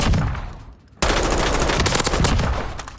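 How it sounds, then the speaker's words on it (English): M4 rifle gunfire at close range, a rapid string of loud sharp shots after a brief lull, with reverberating cracks continuing for about two seconds. "Take the gun at face value and just shoot it."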